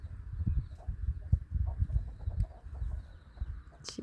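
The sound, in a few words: hen clucking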